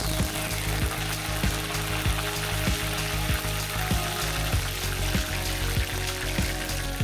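Curry leaves and whole spices, including cloves, star anise and cardamom, fry in hot oil for a mutton head gravy. The sizzling is loud, close and steady, with faint regular taps running under it.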